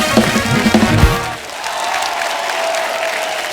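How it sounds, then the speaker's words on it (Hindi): Enthusiastic applause from a studio audience at a Hindi comedy talk show, loud and continuous clapping that swells after a brief musical sting and holds steady. "इनके लिए जोरदार ताली हो जाए।"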